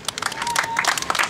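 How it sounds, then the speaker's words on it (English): A group claps for a cricket centurion after a match, a quick scattered burst of hand claps at moderate loudness with a faint tone running underneath. "Let's clap for him."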